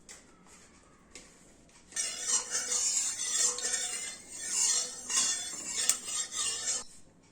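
Pabda fish pieces are rubbed with turmeric and salt in a bowl, giving soft, wet squelching and scraping for several seconds after a brief quiet start, close and fairly faint, with no voices.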